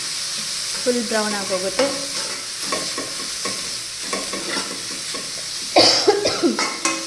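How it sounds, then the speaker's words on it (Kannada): Masala paste fries in oil over a low flame, giving a close, bubbling sizzle broken by spoon scrapes and stirring knocks. Someone talks briefly, and a louder burst of sputtering comes near the end. "ಸ್ವಲ್ಪ ಆಯಿಲ್ ಜೊತೆ ಚೆನ್ನಾಗಿ ಫ್ರೈ ಮಾಡ್ತೀನಿ"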